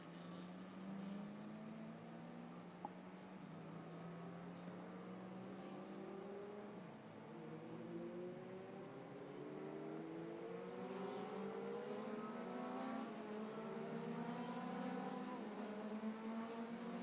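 Group E race cars at the 2021 NASA Championships rumble out onto the track, their engines rising and sweeping in pitch as several pass at a distance, heard from the paddock with no talk.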